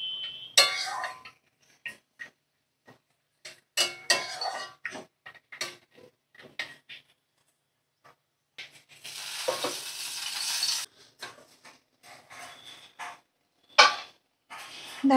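A spoon stirs spinach with beetroot in a pan, making irregular close clinks and scrapes separated by brief pauses, with a rush of sizzling hiss midway.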